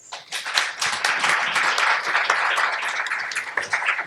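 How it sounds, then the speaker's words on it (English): An audience at a philanthropy forum in Virginia breaks into applause, a dense, even wash of many hands clapping that swells quickly and holds steady for several seconds before tapering slightly. "Let's give a round of applause."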